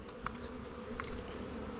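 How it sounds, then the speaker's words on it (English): Honey bees in a queen cage with candy at each end give a soft, continuous close buzz with a few faint higher flickers, steady and low in level. "these few bees here, see, they're in there, they're eating on that candy a little bit"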